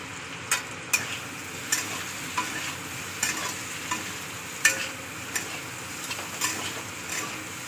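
Cumin powder, capsicum and chopped tomato fry in a pan under a steady sizzle, punctuated by regular spatula taps and scrapes against the metal about every half second, close and clear.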